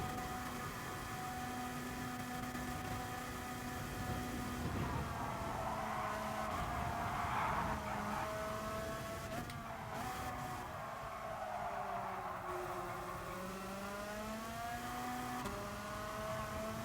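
Group 4 race car engine in the Gran Turismo Sport video game, a steady loud engine drone with gear shifts and rising and falling revs, some tyre noise, no voices.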